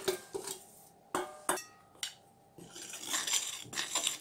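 Sifted cornstarch being mixed into a beaten vanilla-sugar batter for a bûche, with repeated utensil clinks and scrapes against the bowl, then a steadier stirring rustle, close and fairly quiet.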